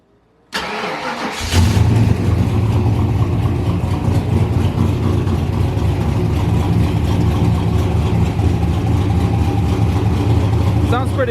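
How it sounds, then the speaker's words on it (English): A turbo V8 street car with a straight pipe exhaust cranks and fires up, then settles into a loud, deep, rumbling idle that holds steady, raw and unmuffled. "this is with the straight pipe."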